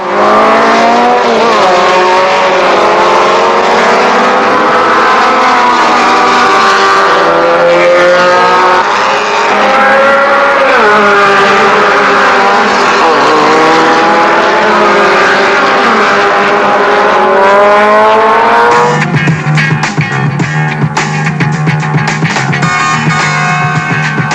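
Renault Gordini and Alpine race cars racing at Le Castellet in 1970, loud high-revving engines rising and falling through gear changes as cars pass close, continuous and overlapping, with a sharper, rougher engine note at the end.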